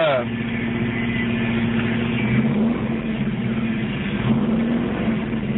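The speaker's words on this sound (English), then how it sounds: "I'm going to let the car run for a while" A car engine runs steadily to burn oil off a freshly worked exhaust manifold, a continuous mid-pitched hum and drone that holds level for several seconds, close up with no talk.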